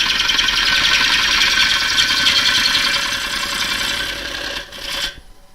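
A sharp gouge cutting wood on a lathe gives a continuous loud, hissing rasp with a steady hum underneath, then eases off, briefly swells and stops abruptly near the end.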